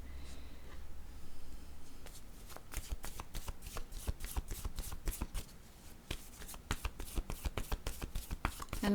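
Word cards shuffled by hand, beginning softly and building into a rapid, close series of crisp flicking riffles that keep going to the end of the clip.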